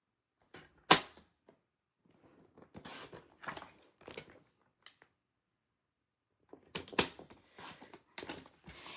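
Designer series paper being cut for a handmade card with a paper trimmer, a quiet series of sharp clicks, slides and snaps in two clusters separated by a short pause, close and isolated.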